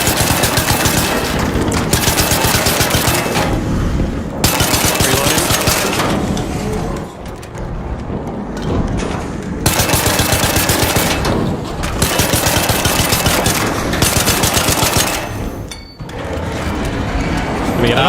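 Sustained automatic gunfire in the video game Arc Raiders, loud, dense rattling bursts broken by brief pauses, with players talking over the shooting.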